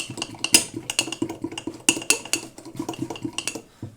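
A utensil stirs mug cake batter with chocolate inside, rapid clinking and scraping against the mug walls in a quick steady rhythm, close and clear with no talking.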